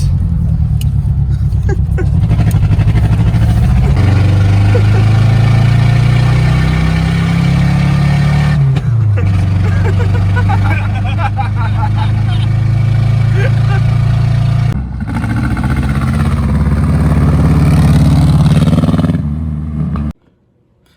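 A Yugo car, driving for the first time in about twenty years, hums steadily under way, its engine note rising and dropping through several shifts before cutting off abruptly near the end.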